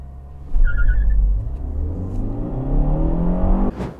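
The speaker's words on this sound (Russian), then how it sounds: "На спортвпуске все равно есть небольшая пробуксовка, потом обороты падают где-то там до 1500, и автомобиль начинает разгоняться" Lada Vesta fitted with a sport air intake pulling away from low revs, a brief slip then a deep engine rumble climbing steadily in pitch as the car accelerates, loud and close throughout.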